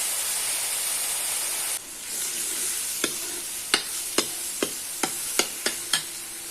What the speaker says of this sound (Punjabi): 2 ਤੋਂ 3 ਮਿੰਟ ਤੱਕ ਪਿਆਜ਼ ਤੇ ਲਸਣ ਨੂੰ ਪਕਾਵਾਂਗੇ